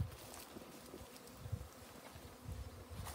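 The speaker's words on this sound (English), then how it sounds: "Look at them here, they're in their swarm." A swarm of native Irish black bees buzzing on a ditch, a dense continuous hum with individual bees droning past close by, outdoors with light wind.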